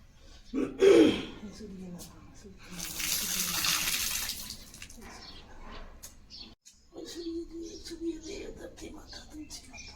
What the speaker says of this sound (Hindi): मेरी नानी अभी जल चढ़ा रही है सुबह सुबह